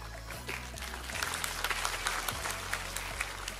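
A church congregation claps during a sermon, giving a moderate, steady patter of many hands over a low background hum.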